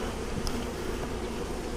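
Honey bees buzz steadily in a dense, continuous drone close to an open beehive during a beginner beekeeping inspection.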